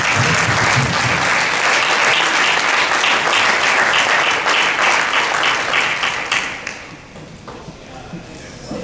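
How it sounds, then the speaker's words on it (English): An audience at a panel discussion on policing and incarceration gives warm applause to the moderator; dense, loud clapping from many hands continues for several seconds, then fades out quickly near the end. "Let's give her a warm applause."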